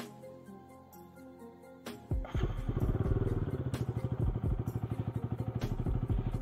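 A Bajaj Pulsar RS200 motorcycle with its muffler removed starts up and idles, a loud, raw, open exhaust note pulsing in fast, even throbs close by.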